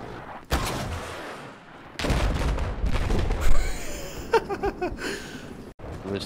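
Dense gunfire and heavy mortar blasts from the video game Battlefield 4, loud overlapping bursts and booms with sharp repeated cracks toward the end, continuing with a brief drop in intensity.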